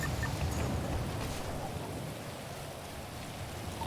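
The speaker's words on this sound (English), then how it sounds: "I hate this fucking rain." Rain falling in the video game GTA V, a steady dense patter on surfaces with no talk, fairly loud and continuous throughout.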